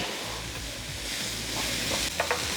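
Garlic cloves and ginger frying in a pan, a steady close sizzle with light stirring scrapes and a few clicks near the end.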